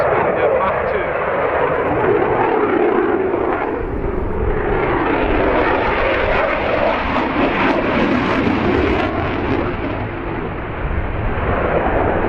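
A supersonic jet aircraft capable of Mach 2 roars past at an airshow, a loud, broad rumbling blast that swells and crackles continuously for several seconds.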